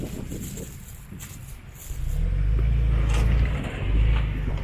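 A 4WD engine labours hard on a big rock step during an off-road trials run at Jellore, a low, loud rumbling drone that swells after a couple of seconds and holds steady, rising again near the end.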